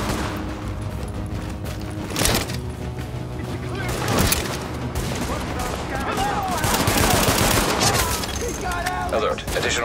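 Enemy gunfire crackles in The Division during a precinct siege, with sustained bursts of automatic fire and sharp impacts, loud and close, while a voice talks over the shooting.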